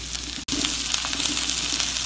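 Green beans for beans kootu sauté in a hot pan with a strong, steady hiss that stays close and constant, broken only by a split-second gap near the start.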